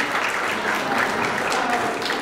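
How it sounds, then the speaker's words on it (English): Audience applause at a church gathering, a brief steady crackle of many hands clapping at moderate volume without pause. "A round of applause for Paula."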